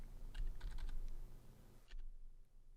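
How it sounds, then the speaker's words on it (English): Typing on a computer keyboard: a quick run of light plastic key clicks pressing a shortcut and entering a word, several taps close together, then a short pause and a couple more keystrokes over a low hum. "I press Control F and I type in a word"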